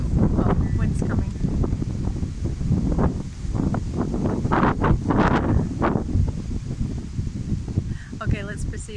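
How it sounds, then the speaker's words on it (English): Gusty wind outdoors near the Colosseum in Rome, buffeting the microphone in loud rumbling waves, with a person talking over it. "Oh, wind's coming."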